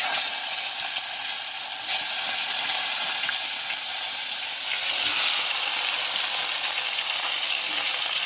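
Salted fish pieces fry in hot oil in a wok, producing a loud, dense, hissing sizzle that runs steadily for the whole stretch with slight surges.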